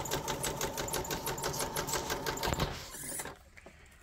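A sewing machine runs steadily on a seam of 18th-century fall-front trousers, its rapid rhythmic stitching loud and close, then stops abruptly near the end, leaving quiet.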